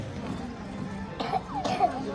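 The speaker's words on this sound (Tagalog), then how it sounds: "inuubo na siya" A child's cough in a busy shopping mall: two or three short, hoarse coughs come in the second half, over steady crowd murmur and background chatter.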